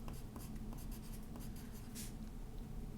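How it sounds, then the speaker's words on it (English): A pen or marker writing the word dry on paper, a soft, close scratching of strokes that continues steadily at low level. "Still writing the word dry."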